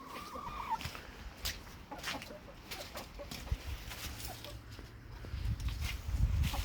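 Moulting chickens clucking softly at a distance amid a busy, gusty outdoor background, with scattered short calls and occasional low rumbles.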